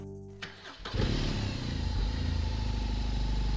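A BMW R18 motorcycle's big boxer engine starts with a short starter crank, catches, and settles into a loud, deep, steady idle right up close.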